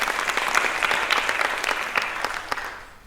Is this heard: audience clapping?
yes